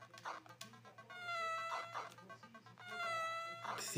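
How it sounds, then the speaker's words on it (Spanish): Within a swamp-themed video game, a cat meows in several drawn-out, wavering cries spaced across a few seconds, faint beneath low background noise, with no speech. "Sí, es un gato."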